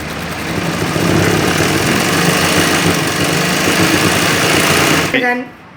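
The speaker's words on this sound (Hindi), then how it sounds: "पहले हम सीधे हिस्से पे सिलाई लगाएंगे इस साइड।" A sewing machine stitches the straight seam of a pair of baby shorts, running in a loud, steady whir for about five seconds before stopping abruptly, with a brief knock near the end.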